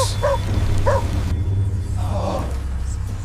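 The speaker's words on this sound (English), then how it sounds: "It stood by the rotting porch and barked frantically into the darkness." A stray dog barks frantically into the darkness by a rotting porch in an abandoned village, two sharp barks in quick succession over a heavy low rumble, followed by a fainter yelp.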